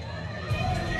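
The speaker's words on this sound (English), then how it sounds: "I'm not sure what the crowd were cheering" Tennis crowd at a hard court match, a broad roar of cheering and shouting that swells halfway through and stays loud, with chatter mixed in.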